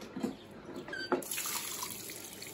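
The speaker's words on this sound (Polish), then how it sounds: "A tu jest słona woda." Salt water flows along a hiking trail, a soft, steady trickling and splashing that starts faintly and thickens into a continuous wash after a moment, heard at a low level with no voices.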